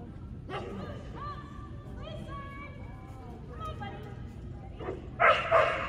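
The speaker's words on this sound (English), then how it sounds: "Good dog." A dog yips, whimpers and gives short barks, fairly close, with whining notes running through much of the scene and a louder outburst near the end, while people talk and soothe nearby.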